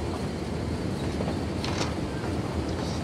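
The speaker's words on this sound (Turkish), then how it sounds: "Bak diğer tren geçiyor şu an." A train passes through a town in the Cities: Skylines 2 city-building game, giving a steady broadband rumble with faint creaks and squeals that stays loud throughout, with no talk.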